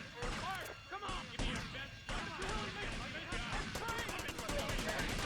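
Rapid gunfire in GTA Vice City Definitive Edition, dense bursts of loud shots and automatic fire in quick succession, with someone talking excitedly over the shooting.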